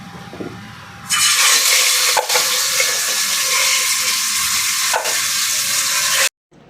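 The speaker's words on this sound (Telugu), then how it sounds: "ఇప్పుడైతే చికెన్ కొంచెం వేయించుకుందాం." Chicken pieces hit a hot pan with a sudden loud, dense sizzle that holds steady, broken by a couple of sharp stirring knocks before stopping abruptly.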